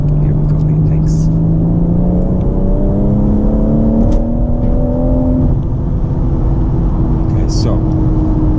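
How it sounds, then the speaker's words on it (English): A BMW M140i fitted with a JB+ tuning module accelerates under gentle throttle, its engine note climbing steadily as heard from inside the car, with someone talking over it. "gently applied throttle there, and I do feel that it was slightly more, that accelerated slightly more."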